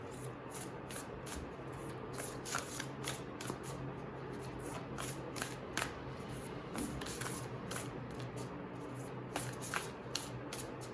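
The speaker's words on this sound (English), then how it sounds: "let me now pick up a card for advice for you guys" A deck of tarot cards is shuffled and handled by hand in a series of quick, close riffling and flicking bursts that repeat rhythmically over a faint background, with no talking.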